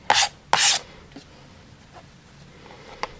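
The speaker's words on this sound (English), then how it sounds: "Now I just slide it down, trim the other 2 sides." Two quick, loud rasping strokes come close together as the sides of a quilt fabric block are trimmed, followed by faint light scrapes and one small tap as the block is shifted. No one speaks.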